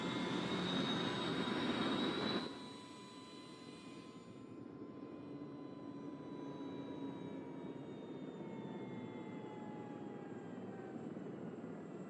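An aircraft taking off in the DayZ video game, a loud engine roar that drops after a few seconds into a steady, fading jet drone with slowly falling whine.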